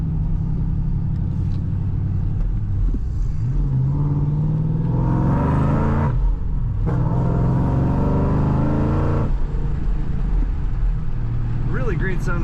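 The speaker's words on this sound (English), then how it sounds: "Maybe I'll put a window down so you can hear this exhaust note." A 2010 Chevrolet Camaro 2SS exhaust note heard from inside the car while driving: a loud, steady low drone that swells as the revs climb, eases off, then rises again near the end.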